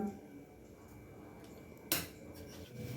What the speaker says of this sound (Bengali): এখানে আমি এখন একটা ছোট বাটি বসিয়ে দিলাম